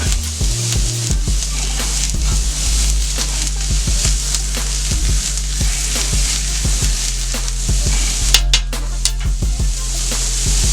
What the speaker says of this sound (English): Down here, we're going to saute these off.